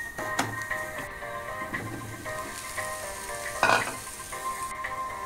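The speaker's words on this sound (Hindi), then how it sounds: "अब मैं इसमें आलू डालूंगी।" Potatoes go into a pan of frying spiced garlic ginger paste, producing a steady close sizzle with scraping and clattering stirring sounds over it.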